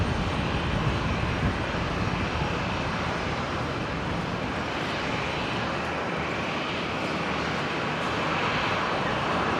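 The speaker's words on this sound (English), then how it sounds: "Next arrival, the Qantas 73 from Sydney" A Qantas airliner arriving from Sydney lands into a strong direct crosswind, its engines giving a steady, loud broadband roar that holds throughout with no talk over it.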